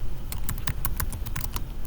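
Rapid clicking keystrokes on a computer keyboard as a search word is typed, irregular taps following one another close up with no speech.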